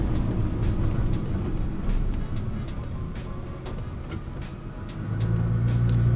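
Nissan GT-R driving slowly in second gear at walking pace, a steady low engine and road rumble heard from inside the car, swelling slightly louder near the end, with no talk.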